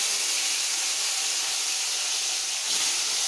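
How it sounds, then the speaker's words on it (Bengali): Small rohu fish coated in oil sizzle steadily in a pan of hot oil, a dense, continuous frying hiss that stays loud and even throughout, with a slight flare near the end. "একে একে এবার মাছগুলো ভেজে নিয়ে তারপরে ফুলকপিটা ভাজবো"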